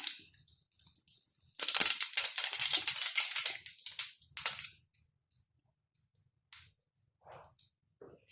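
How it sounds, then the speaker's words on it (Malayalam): Mustard seeds popping in hot oil for a bottle gourd stir-fry, a dense burst of sharp crackles and spits for about three seconds, then scattered faint pops as the spluttering dies down. "കടുക് പൊട്ടിയിട്ടുണ്ട്."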